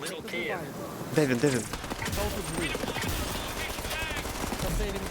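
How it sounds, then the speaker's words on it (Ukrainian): Bursts of automatic gunfire in the battle royale video game Off The Grid, rapid rattling volleys at mid distance, mixed under excited talk between players. "Стріляють."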